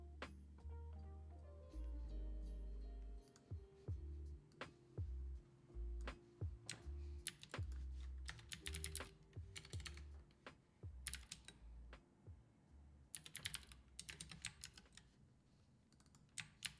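Keys clatter on a laptop keyboard in quick irregular runs of taps with brief pauses, close and fairly quiet.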